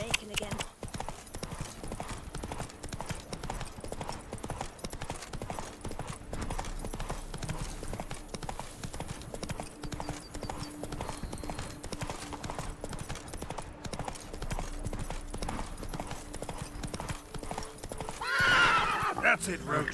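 Roach the horse galloping in The Witcher 3, rapid rhythmic hoofbeats pounding steadily under background game sound, with a whinny near the end.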